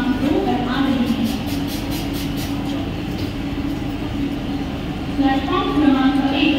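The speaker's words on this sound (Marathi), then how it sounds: "7 वाजून 5 मिनिटांची पुण्याला जाणारी ही लोकल थोड्या वेळात प्लॅटफॉर्म क्रमांक 2 वर येत आहे।" A Mumbai local train arriving at a railway station platform at night, a continuous low rumble of rolling wagons with brief squeals, a public-address announcement talking over it.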